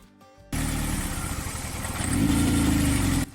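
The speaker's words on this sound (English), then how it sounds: "a bad wire going to a coil pack, causing a misfire in the engine" A car engine misfiring from a bad wire to a coil pack idles loudly and unevenly with a rough, stumbling rhythm after a brief quiet start, cutting off abruptly near the end.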